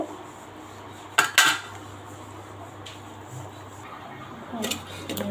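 Jackfruit seeds are added to a pot of simmering beef curry, giving a couple of sharp metallic clatters of utensils against the pot amid quiet kitchen background.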